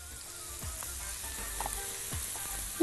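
Mushroom filling frying in a pan while being stirred, a soft continuous sizzle with a few faint scraping stirs, close and fairly quiet, with a brief louder knock at the very end.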